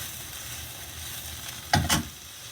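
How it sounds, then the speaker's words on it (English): Brussels sprouts frying on high heat in a wok with carrot and cumin, a steady soft sizzle broken by two quick loud clattering stirs near the end, no talk. "we're just going to almost wok fry that"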